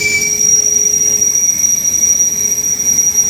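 Steel wheels of an LHB-coach express train squeal as it starts moving, a sustained high whine over a continuous rumbling bed of rail noise, loud and close throughout.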